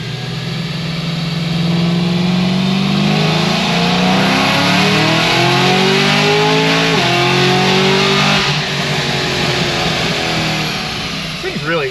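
A Cadillac CTS-V on a stock tire pulls hard, its engine note climbing steadily and loudly, then a brief dip at a gear shift before it rises again near the end.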